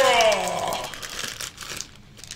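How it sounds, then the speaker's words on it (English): A plastic blind bag being torn open, with a loud close crinkling rip at the start that fades into softer rustling, while a voice talks over it. "Let's tear this open."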